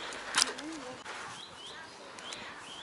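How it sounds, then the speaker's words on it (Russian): Pigeons cooing in Kaliningrad's Central Park on a warm June day, soft low coos close by under faint outdoor ambience, with a brief sharp rustle near the start. "Нас преследуют голуби"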